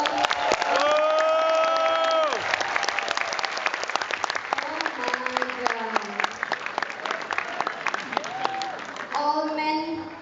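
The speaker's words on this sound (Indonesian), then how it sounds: "Boleh tepuk tangan untuk" At a product grand launching event, an audience applauds and cheers loudly and continuously, while amplified background music with sustained tones runs underneath throughout.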